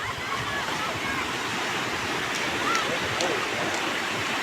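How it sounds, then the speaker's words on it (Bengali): Sea waves wash onto Mandarmani beach at high tide, making a continuous close roar of surf and rushing water with wind noise and no clear gaps. "আর দেখো সমুদ্রের ঢেউ কীরকম আসছে।"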